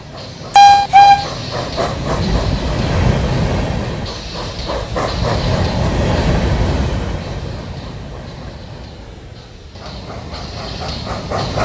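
Cartoon train Jasper rolling along rails with a steady rumbling chug and rhythmic clatter, opening with two sharp, loud whistle toots, then a continuous moving rumble that thins briefly near the end.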